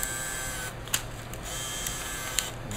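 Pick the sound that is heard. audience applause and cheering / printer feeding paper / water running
printer feeding paper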